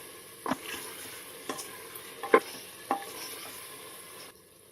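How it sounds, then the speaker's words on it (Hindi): Fried potatoes being stirred into biryani masala, a few distinct scraping knocks of a spoon against the pot over a faint sizzle, close and fairly quiet. "अब इस स्टेज पर हम इसमें ये जो आलू फ्राई करके रखे थे वो डाल देंगे, इसको मिक्स करेंगे मसाले में।"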